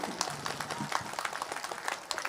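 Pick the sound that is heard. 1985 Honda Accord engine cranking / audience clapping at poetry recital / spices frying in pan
audience clapping at poetry recital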